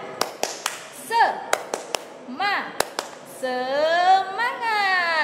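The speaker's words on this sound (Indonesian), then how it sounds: "Coba dulu tepuk semangat." Rhythmic spirit clapping (tepuk semangat) with sharp, evenly paced claps in a patterned sequence, mixed with lively sung or chanted voices that grow into a sustained vocal phrase near the end.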